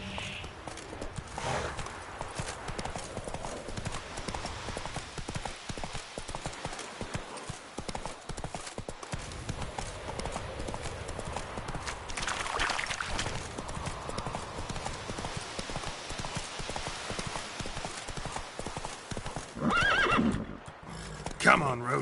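Horse in the video game The Witcher 3: Wild Hunt, neighing and whinnying over steady clip-clopping hooves, with a person talking throughout.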